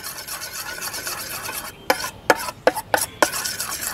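Homemade kinetic sand being mixed in a bowl, a gritty rasping rub that gives way to several distinct scraping strokes near the end, close and without speech.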